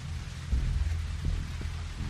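Steady rain hisses through a Walking Dead video game scene while low rumbles of thunder roll underneath, a continuous wet wash with deep swells, no voices.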